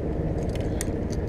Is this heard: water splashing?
no